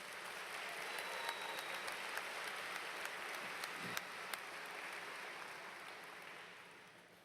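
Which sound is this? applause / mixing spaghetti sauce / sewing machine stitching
applause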